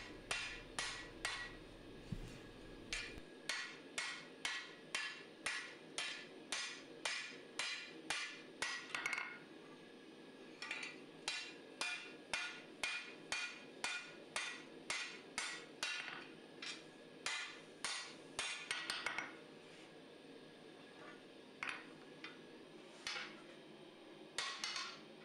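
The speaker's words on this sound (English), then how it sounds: "Just a bit of whack forging here" Steady, ringing hammer blows fall on a Musso Bowie knife blade at the anvil, a close run of evenly spaced strikes that pauses briefly around the midpoint and then carries on at the same pace before stopping.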